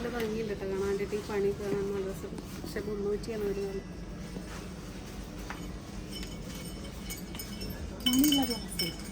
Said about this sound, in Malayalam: മണിയുള്ള ഗ്ലാസ് ഇത് കൊള്ളാട്ടോ കുട്ടികളെ കളിപ്പിക്കാൻ